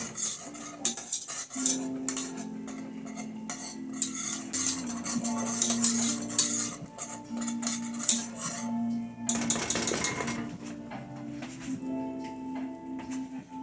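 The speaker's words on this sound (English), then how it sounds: "We're stirring it." Spoon scraping and clinking against a pan while a creamy lemon chicken sauce is stirred off the heat, a steady stream of close metallic scrapes and taps with a few louder rattles, no talking.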